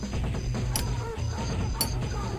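Video game theme music as heard on the PS2 version, a dense, steady bed of low tones and melody with two brief bright accents, playing on its own without talk.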